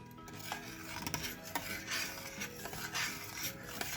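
A spoon stirs milk and starch for sütlaç rice pudding in a pot, making soft, continuous scraping and rubbing sounds with slight rhythmic swirls, close and quiet.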